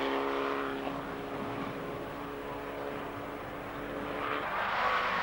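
Formula Vee race cars at the finish of a race at Silverstone, a continuous engine drone with tonal whine that swells near the end as cars approach, heard from trackside without talking.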